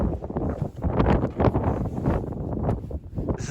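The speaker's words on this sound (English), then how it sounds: "That is inflow wind." Strong inflow wind rushing ahead of an ice storm, a steady broad roar buffeting the microphone with gusty swells, loud and close throughout.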